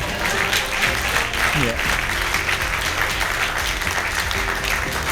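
Wedding guests fill a room with loud, continuous applause, with a voice briefly calling out over the clapping.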